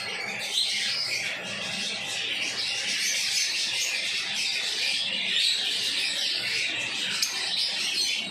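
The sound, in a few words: albino red-eyed pet birds calling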